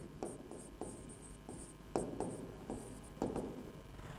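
Chalk or marker strokes scratch across a board at a lecture, with short, quiet taps and scrapes in an uneven rhythm and no talking.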